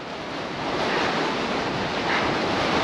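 Continuous strong wind roaring across the microphone, a dense, loud hiss with no breaks or voices.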